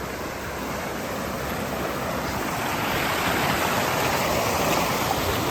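A creek in Chichester runs strongly toward a small waterfall, a steady, full rushing and splashing of water that holds close and constant and swells slightly toward the end, with no voices.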